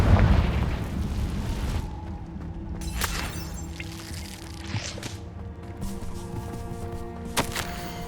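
A Confringo blasting spell goes off in the Hogwarts Legacy video game, a booming burst followed by crackling debris and a lingering rumble, loud and with no talking.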